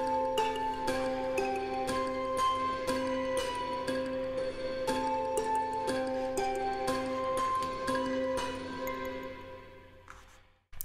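Layered kalimba parts with slapback delay play a bright, plucked melody of quick repeating notes that ring over one another, then decay and fade near the end. The sound is close and clear, with no voices.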